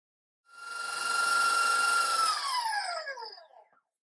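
An electric mixer creaming butter for eggnog pound cake batter gives a steady high motor whine, then spins down and fades out after a few seconds, with no voices.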